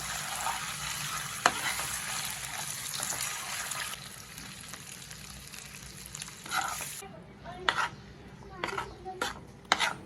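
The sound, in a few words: stirring chopped boiled eggs into frying masala in a pan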